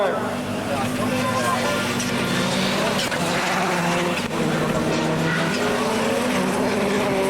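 A rallycross car slides across a French championship track at Lavaré, its engine roaring and tires scrubbing at a distance while a commentator talks over the racing noise throughout.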